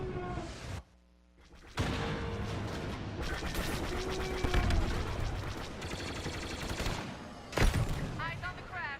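Sustained bursts of video game gunfire aimed at a reactor, a dense continuous roar of rapid shots with heavy impacts, a brief lull near the start and a louder burst late on, with voices mixed in.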